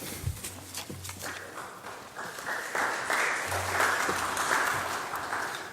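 Applause from a gathered crowd at a city tax delinquency press conference with the mayor, a steady rustle of clapping that swells and holds, with some low thumps underneath.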